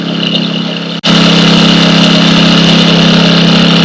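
Gas generator roaring under load, a loud, steady engine drone close by with a brief dip before it settles into a constant heavy hum, no voices over it.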